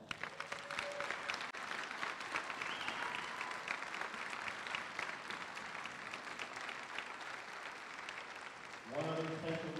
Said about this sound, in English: Please give Marcus a round of applause.